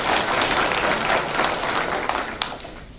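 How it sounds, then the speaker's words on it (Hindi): Audience applause fills the hall in a dense, loud wash of clapping that holds steady throughout and tapers slightly near the end, with a few sharper claps standing out. "जोरदार तालियां होनी चाहिए इस बात पर।"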